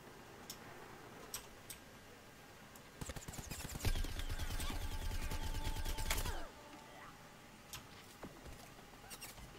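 Rapid gunfire in Plants vs Zombies Garden Warfare, a fast stream of clicking shots lasting a few seconds in the middle, fairly close, with scattered sharp isolated pops before and after.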